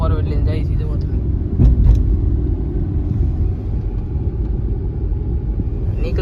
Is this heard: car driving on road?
yes